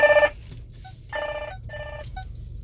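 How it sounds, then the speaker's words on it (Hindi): A phone rings in bursts of a bright electronic tone, three separate rings with pauses between them, fairly loud against a low background hum. "अब उसका फ़ोन आ रहा है।"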